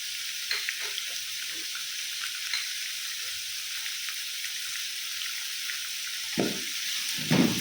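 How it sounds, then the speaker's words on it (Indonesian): Shrimp with bay leaves and sliced ginger fry in a pan with a steady hiss, while occasional soft scrapes and clunks come from stirring, louder near the end. "Ini kita aduk-aduk terus ya."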